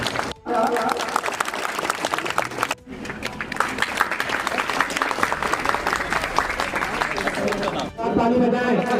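Audience applause at a student prize-distribution ceremony held by a local club, a loud, continuous crowd clapping that is cut off by brief pauses, with voices heard through it.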